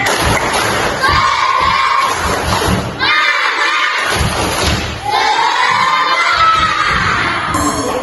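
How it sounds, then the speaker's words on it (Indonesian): Schoolchildren in a classroom do a rhythmic spirit-clapping chant, loud group shouting mixed with regular claps and thumps over about eight seconds, with voices chanting together throughout. "Tepuk semangat."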